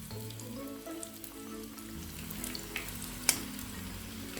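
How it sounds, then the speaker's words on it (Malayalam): Fish frying in hot oil for a crispy, crunchy fish fry gives a steady, close sizzle with a few brief pops and crackles. "ഫിഷ് 2 സൈഡും ഫ്രൈ ആയിട്ടുണ്ട്. ഇനി നമുക്കിത് ഓയിലിൽ നിന്ന് കോരി മാറ്റാം."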